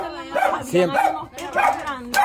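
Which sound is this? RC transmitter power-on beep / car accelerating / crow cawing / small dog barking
small dog barking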